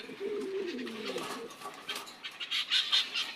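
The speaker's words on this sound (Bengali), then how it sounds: "এটা একটা মাদি কবুতর।" A female pigeon held by a pigeon seller gives a soft, low cooing call up close, followed by light rustling and a few faint chirpy sounds.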